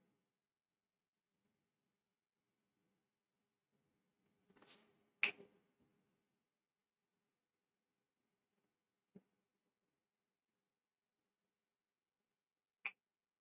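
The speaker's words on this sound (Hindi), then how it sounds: "चुटकी की आवाज आ रही है बढ़िया से" Finger snaps ring out in a quiet room, a few isolated sharp clicks spaced several seconds apart, faint and alone with no voices.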